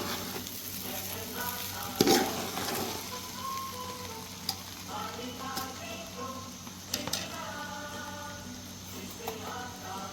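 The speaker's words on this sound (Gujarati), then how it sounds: "હવે પૌવા બરાબર મિક્સ કરી દેવાના છે." Poha being stirred in a frying pan, with a steady soft sizzle, a few scraping strokes and a loud clatter near the start, and a faint voice in the background.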